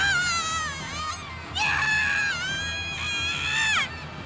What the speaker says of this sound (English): With a scream, the nurse clutched at her face and crashed to the floor.